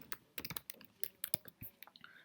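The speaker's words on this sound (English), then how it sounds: "So if I press a key here, so this tells us that a keyboard event has occurred" Rapid typing on a computer keyboard, an irregular run of a dozen or so crisp key clicks and taps, close and fairly quiet with no voices.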